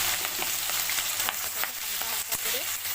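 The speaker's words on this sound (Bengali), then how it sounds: "এবার আমি কাঁকড়াটা ভেজে নেব।" Crab pieces, rubbed with salt and turmeric, sizzle steadily in hot oil in a wok, a continuous loud frying hiss with small crackles and stirring clicks.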